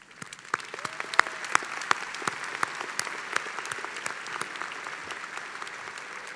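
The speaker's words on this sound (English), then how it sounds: "I'll applaud for rising to a challenge." Dense, steady applause from a large audience at the UWM 2019 spring commencement ceremony, with many overlapping claps sustained throughout, fairly close and without speech.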